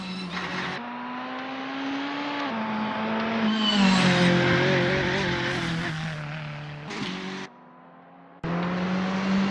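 A VW Scirocco Silhouette race car at Bilster Berg in Assetto Corsa, its engine droning loud and steady, rising as it revs through gears, with a brief cut to silence before the sound resumes.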